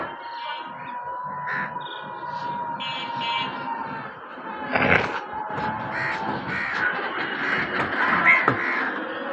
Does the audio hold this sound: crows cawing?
yes